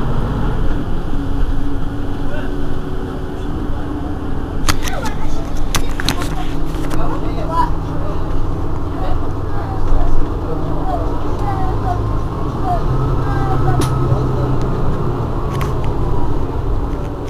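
Inside a Mercedes-Benz Citaro G C2 articulated city bus, no. 2178 of RTM Marseille on line B2, the engine rumbles steadily and loudly beneath rattles, clunks and occasional faint background voices.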